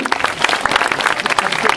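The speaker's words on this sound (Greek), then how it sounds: "θέλω ένα θερμό χειροκρότημα" An audience applauds at a folk dance performance by children, a dense burst of many hands clapping close by, with a voice briefly heard beneath it.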